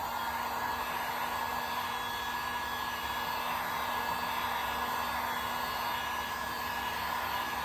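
A heat gun or hair dryer blows hot air onto the adhesive of an OEM decal on a Yamaha FZ6R motorcycle, a steady, even whirring roar that holds unbroken from start to finish.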